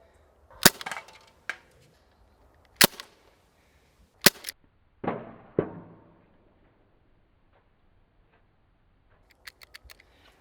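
A Crosman Dual Action Vigilante CO2 BB revolver fires several sharp, loud snapping shots at uneven intervals, with clicks of the action between them and a few faint ticks near the end.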